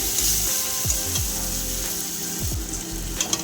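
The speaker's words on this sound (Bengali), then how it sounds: "আদা রসুনের পেস্টটাকে আমরা ততক্ষণ ভেজে নেব যতক্ষণ না এর কাঁচা স্মেলটা চলে যায়" Ginger-garlic paste frying in a pan for aloo chop filling, a loud continuous sizzle with several scraping strokes of a spatula across the pan.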